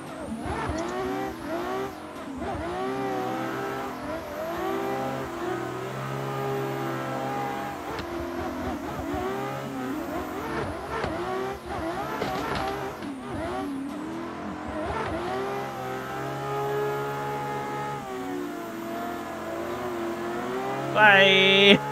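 BMW M4 G82 race car in a racing video game, its engine revving up and down through gear changes for a sustained run, with tire squeal rising near the end and no talk over it.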